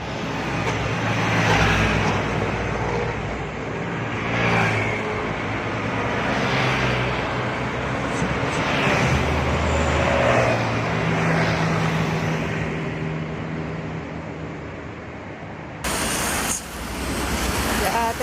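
An ALS intercity bus bound for Medan rumbles steadily along a road, broadband engine and tyre noise holding at a constant level, with a brief bright burst near the end.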